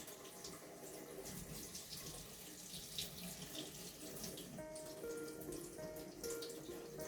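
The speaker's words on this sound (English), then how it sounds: "Excuse me running the sink and making noise." A kitchen sink tap runs warm water into jars, a steady, close, unbroken rush filling the whole stretch with no talking.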